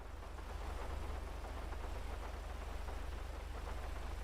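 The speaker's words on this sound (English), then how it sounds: "So I hear the rain. I definitely hear the rain." Steady, dense video game rainfall hisses without pause, a continuous wash of noise with a low rumble underneath and no voices.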